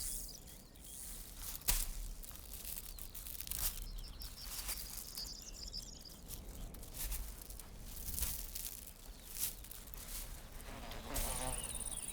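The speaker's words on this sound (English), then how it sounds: "Nearby, a Bembix wasp digs its breeding tunnel into the sandy soil." Bembix wasp digging its breeding tunnel into sandy soil, close buzzing that comes and goes in short bursts, with gritty scratching and rustling between the buzzes and a brief sharp whine near the end.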